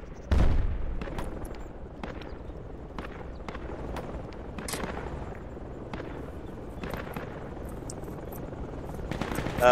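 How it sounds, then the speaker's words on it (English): Enemy gunfire in the military shooter game Project Reality, scattered sharp distant shots and short bursts cracking irregularly over a low ambient rumble, with a loud burst at the start and end. "I hear enemy fire just to our north."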